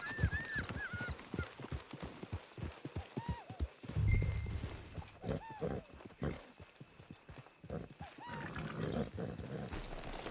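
A horse walking up to a camp, its hooves clip-clopping in an uneven series of knocks close by, mixed with speech and other movement sounds.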